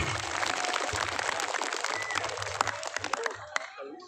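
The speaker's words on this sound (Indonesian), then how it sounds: "Tepuk tangan untuk para pemuda dan para pemudinya" An audience claps for the youth organisers at a religious gathering, a dense patter of applause that thins into scattered claps toward the end, with a voice faintly present.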